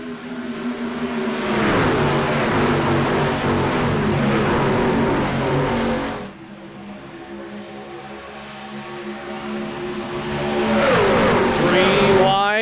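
Racing trucks in an IROC Challenge Series race in California roar together in a close fight for the lead, engines droning loud and steady, dipping briefly, then rising again as they pass, with a commentator talking over them.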